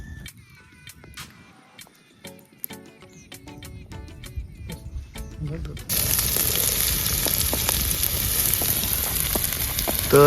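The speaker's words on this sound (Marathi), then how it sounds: "कांदा टाकलेला आहे आम्ही याच्या कढईमध्ये आता, आणि याला परतून घेऊया आम्ही आता" Onion frying in a kadhai over a wood fire at a farm, with a loud, steady sizzle that bursts in about halfway through. Before it, there are voices and clatter.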